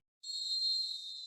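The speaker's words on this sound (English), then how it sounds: "The final whistle and confirmation, we are headed for penalties" A referee's final whistle in a PES 2017 football match, Bayern Munich against Paris Saint-Germain, one sustained shrill blast that starts suddenly and holds steady, clear against an otherwise silent background.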